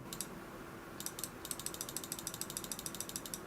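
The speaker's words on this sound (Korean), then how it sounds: "자 마우스 이렇게 있죠? 소리 들려줄게요." Rapid clicking in quick bursts, then a steady run of small sharp clicks, faint and close, like a mouse button pressed over and over.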